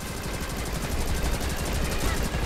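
Rapid, steady automatic gunfire from the video game Rocketbirds: Hardboiled Chicken, a dense, continuous crackling burst throughout at an even loudness, with no talk over it.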